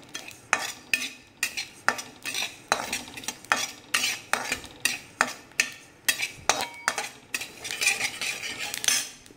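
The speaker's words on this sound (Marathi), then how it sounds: "अगदी मंद गॅसवर भाजायचं, घाई करायची नाही पण याला. हे बघा कसं आवाज येतो पहा." An ingredient dry-roasting on a low gas flame, with a spoon scraping and clinking rhythmically against the pan roughly twice a second, and light crackling and popping underneath, with no voices.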